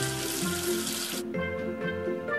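Water runs from a tap as a figure is rinsed of soap, a steady loud gush that cuts off partway through, followed by tonal background music.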